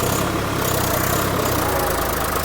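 A Swaraj 855 tractor engine runs in medium second gear, a steady, loud diesel drone with a low, even throb that holds throughout with no talk.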